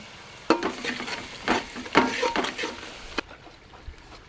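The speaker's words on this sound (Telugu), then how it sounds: "మసాలా అయితే మంచిగా ఫ్రై అయ్యి నూనె అయితే పైకి తేలింది చూడండి" Masala frying in oil for egg dum biryani, with a spoon stirring it through the pan: repeated scraping strokes over a steady close sizzle, tapering off near the end.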